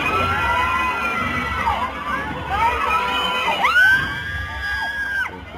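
A crowd at the Sinulog 2026 street festival shouts and cheers as a float parade draws closer, high children's shrieks and whoops rising over a dense roar, swelling loudest near the end.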